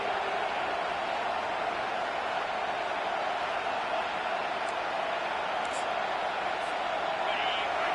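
A home crowd in an American football video game, with the defense on third down, gives a steady, loud roar that holds evenly throughout, like a stadium full of cheering fans.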